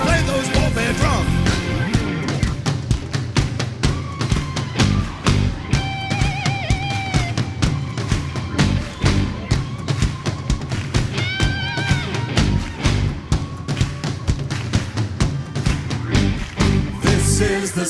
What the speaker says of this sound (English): Come on, play those warfare drums.